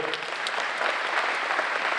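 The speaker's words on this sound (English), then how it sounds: "One more round of applause for" An audience at a community foundation annual meeting gives steady, dense applause for presenters, a continuous wash of clapping from a sizable crowd.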